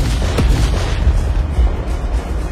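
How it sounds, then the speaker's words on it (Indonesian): Large explosion sound effect for an animated fantasy battle scene, a heavy deep boom with a sharp crack near the start, followed by rumbling low-end debris and a sustained roar, loud and alone. "sebuah ledakan besar yang berasal dari lorong Guiksu terdengar"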